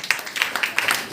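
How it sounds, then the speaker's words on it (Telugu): A church congregation claps together during an anniversary service, with quick, irregular overlapping claps that fill a short burst and carry no talk. "అందరూ చప్పట్లు కొడదాం."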